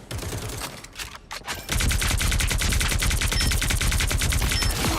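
Rapid automatic gunfire from the video game Marvel Rivals, loud continuous bursts of tightly packed shots that kick in sharply after a brief quieter lull of scattered shots, with no talking.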